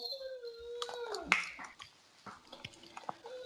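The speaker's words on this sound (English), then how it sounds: "I have a whining puppy dog in the background." Puppy dog whining in the background, a high thin drawn-out whimper followed by scattered small clicks and soft noises, fairly close but quiet.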